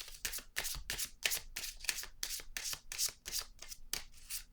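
A deck of cards is shuffled close up, producing a quick series of crisp riffling bursts with short pauses in between and no voices.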